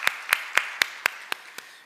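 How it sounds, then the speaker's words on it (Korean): Church congregation clapping in welcome during a Sunday service, heard as seven sharp, evenly spaced claps, fairly soft and alone with no talk. "우리 박수로 환영하겠습니다"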